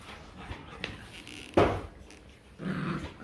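Low dog growls rise and fade among a household pack of Western and local breeds such as a Rottweiler and a Poodle, with a louder snarl near the middle and another rumble at the end.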